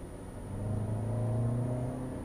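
Lexus NX 200T with its engine sound generator switched off, accelerating: a steady mid-low engine hum swells and rises, then eases, heard alone without talk.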